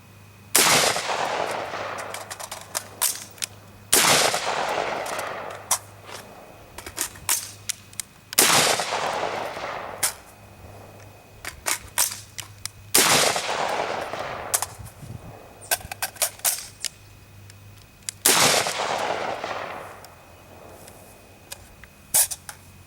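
An X95 rifle fires during reload drills, with five loud bursts of rapid shots each emptying a magazine, separated by quieter pauses holding a few isolated clicks and single shots.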